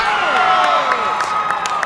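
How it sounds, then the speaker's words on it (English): Spectators at a men's high jump in a track and field meet cheer and clap rhythmically as an athlete attempts 1.99 m, a steady, fairly loud crowd roar with repeated claps building throughout. "now the crowd getting into it for Joshua Darwin."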